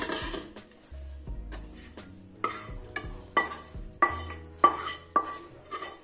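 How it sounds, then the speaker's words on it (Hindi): A cooled cooking mixture is scraped from one pot into a large vessel, with a run of sharp metal spoon knocks and scrapes against the pan's rim, repeating roughly every half second, close and clear. "अब इसे एक बड़े साइज के बर्तन में हम ट्रांसफर करेंगे।"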